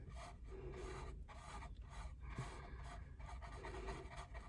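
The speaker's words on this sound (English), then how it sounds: "Really rub it hard." Hard rubbing to clean glue off a piece, a steady raspy scrubbing in repeated strokes, close and continuous for several seconds.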